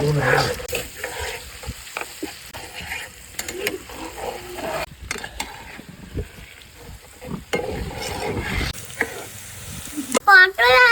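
Potatoes and pointed gourd fry in a pan while being stirred: continuous sizzling with scraping, clattering stirs and brief pauses, close up, with occasional speech alongside.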